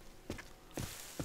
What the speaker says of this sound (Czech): Slyším úžasně moje kroky.